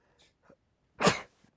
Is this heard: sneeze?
yes